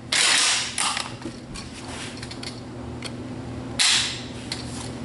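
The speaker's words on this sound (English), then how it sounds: "Let's go ahead and test this trigger pull." An SKS rifle trigger is pulled on a pull-weight gauge, giving a sharp mechanical snap at the start and another near the end, with faint creaks and clicks between.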